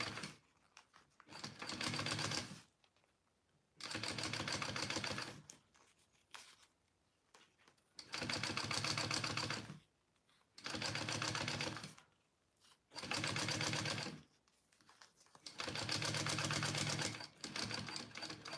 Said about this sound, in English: I'm going to go ahead and just sew my two pieces together